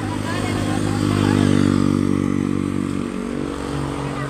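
Motorcycles riding past on a Sierra Madre mountain road in Tanay, Rizal, engines humming and swelling as they pass nearby, with people talking over the engine noise.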